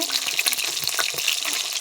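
Rupchanda fish fry in hot oil in a pan with a close, continuous crackling sizzle and no voices.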